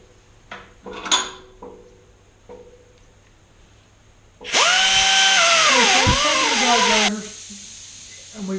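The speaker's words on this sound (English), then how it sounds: "I used the big die grinder first to make the holes round." Air-powered die grinder rounding holes in a forged steel sleigh bell, a loud steady high whine that dips in pitch as it bites into the metal for a few seconds, preceded by light tapping and handling clatter.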